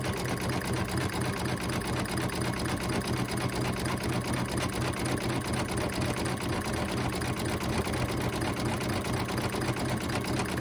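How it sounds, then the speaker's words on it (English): An embroidery machine sews a satin stitch border around a design on cork for a card holder. Its fast, even whirring and needle chatter run steadily and close throughout, with no talking. "now we're going to do our final stitch, and this is just going to do the satin stitch that goes all the way around the design"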